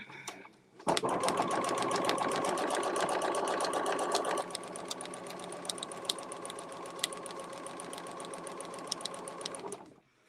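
A sewing machine stitches fabric for cosplay in one continuous, close, rapid run lasting several seconds, its motor whirring with a fast mechanical ticking, and no talk.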